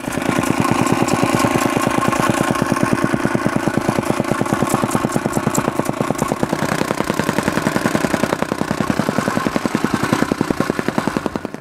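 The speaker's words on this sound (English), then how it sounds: "I rented a jumping jack and compact the soil" A rented jumping jack compactor tamps wetted sand in thin layers for a shop foundation, giving a loud, continuous engine drone with a rapid, steady pounding rhythm throughout.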